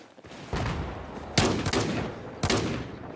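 Gunfire in the video game Battlefield 4: several loud, close shotgun-like blasts in quick succession, each bursting sharply and trailing off, with no talking.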